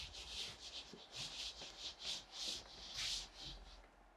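An eraser rubs out writing on a board during a finance lecture, giving a series of about eight brisk, close swishing strokes in an uneven rhythm, alone with no talk.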